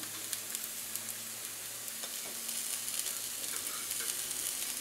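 Porcini mushrooms fry in a pan with a soft, continuous sizzle and crackle, fairly quiet and even, with no one talking.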